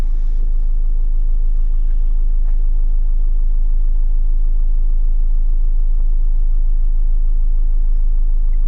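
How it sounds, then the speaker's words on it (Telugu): A Maruti Suzuki S-Cross Zeta engine idles, heard from inside the closed cabin as a steady, low, muffled hum with no other sounds. "క్యాబిన్ లోపలికి మనకు ఇంజన్ యొక్క వైబ్రేషన్స్ ఎలా ఉన్నాయి ఏంటి అని చెప్పేసి"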